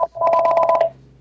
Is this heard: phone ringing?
yes